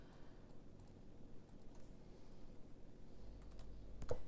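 Close, quiet typing on a computer keyboard while entering a language setting in Autodesk Revit, a run of soft key clicks over a low room hum.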